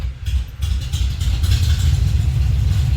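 A 1954 Ford F-100 engine that has sat unused for a while catches and runs, a loud, steady, low-pitched idle with uneven pulsing and light mechanical clatter, close by.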